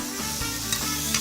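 Tofu pan-frying in a dry pan without oil gives a steady, close sizzle with a couple of brief stirring clicks, heard alone without talk.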